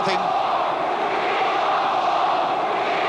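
Large football crowd at a Derby versus Arsenal match, a steady roaring chant of "We want four" filling a packed stadium, continuous and loud with no breaks.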